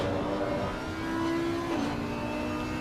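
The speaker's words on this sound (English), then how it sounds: "But listen to the Porsche though." A Porsche GT race car's engine drones steadily from onboard at the Nürburgring, a continuous mid-level roar whose pitch holds and then drops briefly as the driver shifts, with no voices over it.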